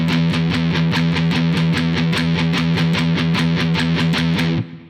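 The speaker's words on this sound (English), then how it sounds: "So normally a triplet would sound like this." Heavily distorted electric guitar in a stoner rock style plays a steady run of evenly spaced triplet notes, loud and close, ending with a short ring-out and no talking.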